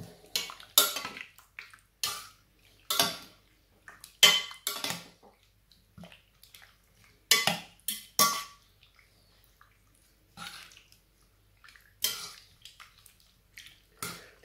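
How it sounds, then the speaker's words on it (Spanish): Strips of squid are mixed by hand in a bowl with a marinade of mayonnaise, mustard, ginger, salt and dried oregano. Sharp, irregular clinks and wet scraping sounds come close to the mic, separated by short quiet gaps. "y aquí los vamos a colocar nuestras tiras de pota. Y lo mezclamos todo."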